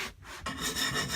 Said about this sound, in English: using a sharpening stone